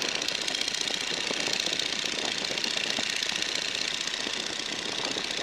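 Stearman PT-17 biplane in flight, its radial engine and propeller making a loud, continuous rough drone with a dense rattling pulse, steady throughout and with no talk over it.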